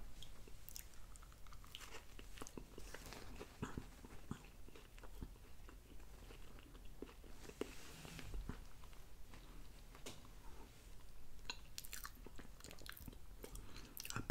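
Close, crunchy chewing of a Firehouse Subs Hook & Ladder sandwich with spicy mustard, steady wet bites and mastication continuing throughout with no talking.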